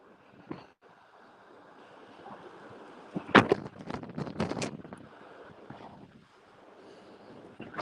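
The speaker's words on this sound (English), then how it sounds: "I could do without the 45 mile an hour wind gusts" Strong 45 mph wind gusts buffet the microphone in rough, roaring bursts, with a quieter steady rush of air between them, on open prairie.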